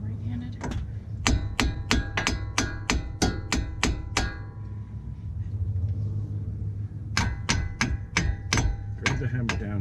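Rapid bursts of sharp metallic hammer blows strike the brake caliper on a 2019 Subaru Impreza, about a dozen hits in a quick run, then a pause, then another volley, over a steady low rumble and faint voice.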